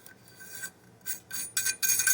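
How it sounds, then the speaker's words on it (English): Steel barrel nut threaded by hand onto the threads of a fire-damaged PSA AR-15 barrel, giving a tight metal-on-metal rasping scrape in several short bursts that grow louder and longer toward the end, with no talking. "what we're going to do is just take another barrel nut, which I have over here, and we're going to see if this fits"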